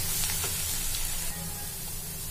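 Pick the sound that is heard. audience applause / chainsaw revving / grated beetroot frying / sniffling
grated beetroot frying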